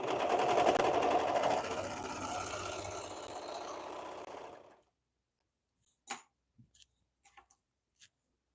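A sewing machine stitches a flounce on a Cascade Tee, running in a loud, steady close whir for several seconds before stopping, followed by a few faint scattered clicks and taps.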